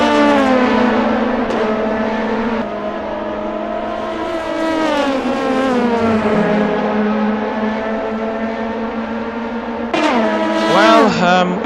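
Race cars at Le Mans in a racing video game, loud engine notes rising and falling as cars accelerate and shift, with a pass-by whoosh near the end, under a commentator talking.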